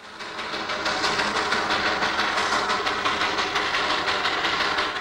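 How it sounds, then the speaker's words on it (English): An Indian steam train runs steadily on rails around Batasia Loop, with a continuous close rolling rumble and faint rhythmic clickety-clack across the whole stretch, no voices. "on the return journey, the train winds its way around the memorial"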